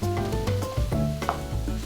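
A spoon stirs cherry tomatoes, chopped fresh basil and rinsed chickpeas in a sizzling pan, giving soft scraping strokes and gentle frying crackle, close and steady with no voices.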